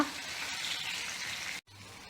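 Chicken pieces drop into a hot pan for Kerala-style spicy noodles, giving a soft steady sizzle that cuts off sharply near the end, with no voices.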